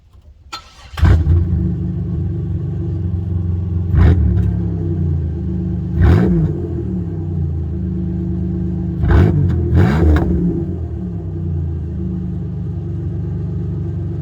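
A Chevrolet Monte Carlo with its muffler deleted, sitting on a stand, cranks and fires up into a loud, deep rumbling idle, then is blipped in several sharp revs, two close together near the end.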